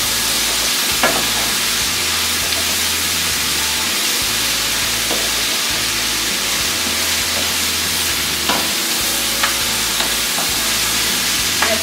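Garlic fries in oil with chicken and sausage for chicken scarpariello, a loud, steady close sizzle that runs without a break. Occasional soft stirring knocks sound through it.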